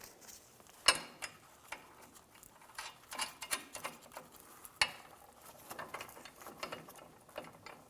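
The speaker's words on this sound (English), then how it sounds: "Using a 14mm socket, snug the nuts down." A ratchet with a 14mm socket snugs down nuts on the bolts of an air suspension helper spring kit on a 2005-2015 Toyota Tacoma, giving close, crisp pawl clicks in irregular bursts with a few sharper knocks.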